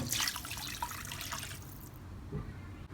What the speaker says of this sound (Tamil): அந்த தண்ணியை வந்து இப்போ இந்த மசாலாவோட சேர்த்துக்கிறேன்